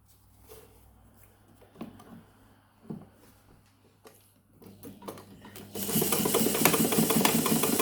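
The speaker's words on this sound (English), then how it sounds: "as I'm sewing, I keep double stitching" Sewing machine double stitching African print fabric for a fringe blouse: quiet handling and short taps at first, then a steady, louder mechanical whirr of continuous stitching close up.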